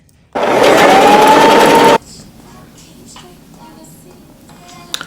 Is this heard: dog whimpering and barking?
no